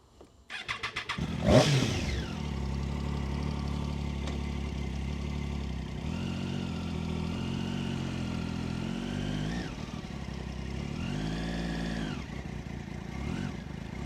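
A Triumph Daytona 675 motorcycle engine starts with a sharp roar, then idles and revs steadily before pulling away, loud and close throughout with no talking.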